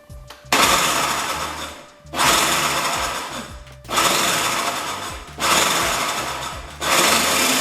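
A food processor blends a black bean and quinoa patty mixture into a paste, running in four loud, steady bursts separated by brief pauses.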